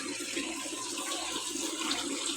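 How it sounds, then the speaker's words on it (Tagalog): Water pours steadily into a pot holding native chicken and lemongrass for tinola, a continuous close splashing rush with no talking. "Tapos butangan na to siya o tubig"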